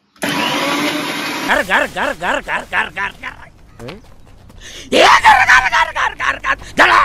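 A blender mixes a shake of banana, cocoa powder and honey. The motor whirs loudly in pulsing bursts, stops briefly, then roars again, and someone talks over it intermittently.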